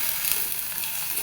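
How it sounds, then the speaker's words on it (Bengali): Potatoes sizzle steadily in hot oil in a pan, a close, even crackling hiss throughout with no voices. "আলু খুব সুন্দর মতো ভাজা হয়ে গেছে, এটা আর একটু ভেজে নিব"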